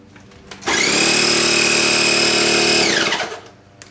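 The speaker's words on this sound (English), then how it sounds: "let me go grab the little mini compressor" A mini air compressor hooked to a valve stem extender buzzes on loud and close with a high-pitched motor whine, runs steadily for about two seconds, then winds down and stops.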